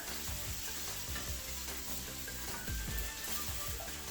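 Scrambled eggs being stirred and mixed in a hot pan, steady scraping strokes over a continuous loud sizzle of frying, close up and without talk.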